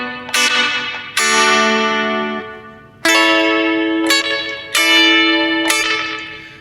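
An electric guitar played through a Champion Leccy Skitter pedal rings out in several struck chords and notes, each attack blooming into a long, washy spring-like reverb tail that decays before the next strum.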